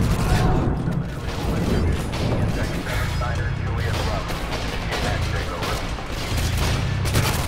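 Gunfire fills a Modern Warfare 2 battle, with a dense, continuous chatter of shots and crashes close by. Someone talks over the shooting.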